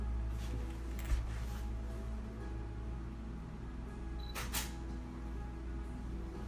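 Two camera shutter clicks at a slow shutter speed, several seconds apart, the first sharp and the second a brief double snap, over a faint steady background hum.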